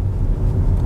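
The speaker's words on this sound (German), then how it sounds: "Also ich krieg so ein schönes Grummeln mit drunter gespielt." Low, smooth engine rumble heard from inside a 2022 Audi RS4 B9 while driving, a loud, steady bass drone with road noise and no break.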